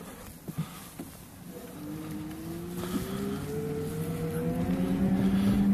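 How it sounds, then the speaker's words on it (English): A 250W electric bike hub motor pulling uphill gives a soft whine that climbs steadily in pitch, over wind and road rumble, with a few light knocks early on and no talk. "So this is just the motor pulling me up now."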